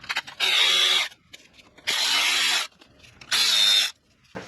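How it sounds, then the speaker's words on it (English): A power ratchet or drill backs three 8mm nuts off the top of a BMW N55 valve cover, three loud whirring bursts of under a second each, with quiet pauses and small clicks between them. "I'm going to take off the 3 8mm nuts right here across the top."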